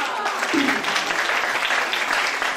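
Applause from an audience welcoming Livio, a parent introduced as Barbara's dad, steady dense clapping at a fairly constant level for the whole moment, with some voices mixed in.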